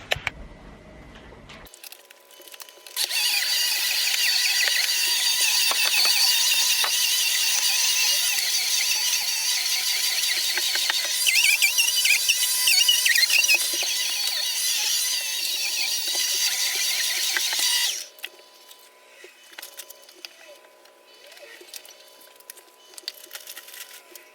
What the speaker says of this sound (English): While he's stirring, I'm just going to really quickly vac round.